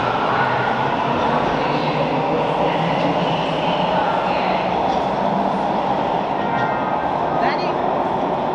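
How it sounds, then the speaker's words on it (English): Subway train ride heard from inside the car, a constant loud rumbling roar of wheels and motors with faint rattles and a brief squeal near the end. "And after, we took the subway."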